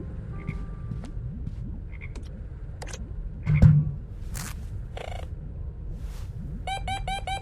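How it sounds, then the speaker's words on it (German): Frogs croak in a video game, a series of short dry croaks and clicks over a low steady ambient hum, ending in a quick run of bright chirping calls. "Die Frösche sind ja schon wieder lebendig."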